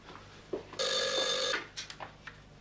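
A telephone bell rings once in a domestic room, a short, bright, metallic ring of under a second that is fairly close and loud, surrounded by faint clicks and small shuffling sounds.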